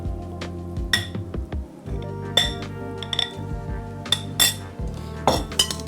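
Glass and metal utensils clink repeatedly against a bowl as pasta and bruschetta are added and tossed, with bright, sharp chinks in an irregular rhythm over a steady low background hum.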